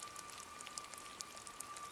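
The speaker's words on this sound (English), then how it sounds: "Rain brings out the contours of what's around you" Steady rainfall outdoors makes a soft, continuous hiss, with scattered nearby drops tapping on surfaces. A faint constant tone runs underneath throughout.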